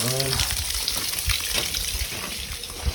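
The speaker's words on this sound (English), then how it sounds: "So we're going to turn a little bit of water on." Water runs from a tap in a steady hissing stream, close by, with faint clanking and some background noise, while flushing a 1963 Starcraft Mariner boat engine.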